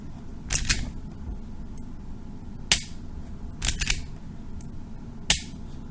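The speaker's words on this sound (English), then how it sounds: "it's cocked, fire, recock it, that's the reset." Taurus PT111 G2 pistol being dry fired and recocked, sharp metallic clicks coming singly and in quick pairs with pauses between, close and crisp against a quiet room.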